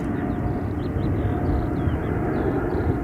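A Qantas airliner departs London Gatwick Airport bound for Perth, its jet engines a loud, steady, continuous roar throughout.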